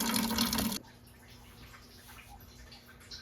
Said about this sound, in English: So 20 minutes later and we're still draining from the radiator